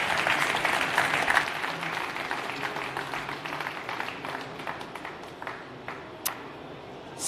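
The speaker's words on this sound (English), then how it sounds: "let's give a huge round of applause" A conference audience at a VivaTechnology keynote claps after a talk, a full round of applause that starts strong and gradually thins out over several seconds, with a few scattered claps lingering at the end.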